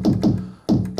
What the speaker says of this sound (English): Pulse is the pure pulse part, which sounds like this